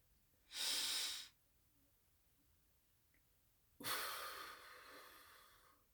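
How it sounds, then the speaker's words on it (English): Two deep breaths, a sharp inhale then a longer, louder exhale after a pause, each breathy and close with a gap of quiet between them. "I just feel this moment you need to just do another inhale, exhale real quick"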